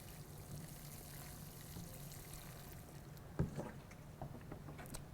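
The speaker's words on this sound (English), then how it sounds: "you can give it some help and water it from the top." Water poured from the top into a large self-watering plant container, a soft continuous trickle and splash at low level, with a few brief knocks and splashes toward the end.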